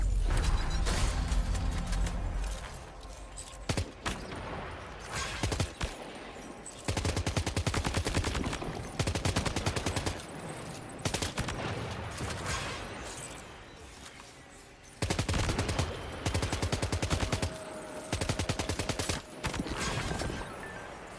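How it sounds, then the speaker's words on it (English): Repeated bursts of automatic MP rifle gunfire in the video game Death Stranding 2 on PS5 Pro, several loud rapid volleys separated by short pauses over a rumbling game soundscape. "I got this MP rifle."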